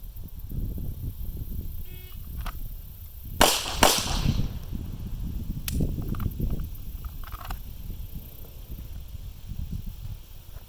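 Two loud, sharp pistol shots from a Beretta 92 at an outdoor range, fired close together in quick succession, with faint background noise and a few softer clicks before and after.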